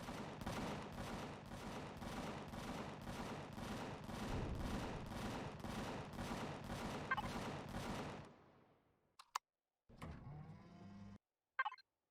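Ship weapons in Empyrion Galactic Survival firing in a steady rapid burst of evenly spaced loud shots for about eight seconds, then falling silent apart from a few brief game sounds.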